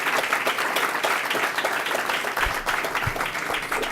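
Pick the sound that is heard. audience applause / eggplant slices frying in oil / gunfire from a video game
audience applause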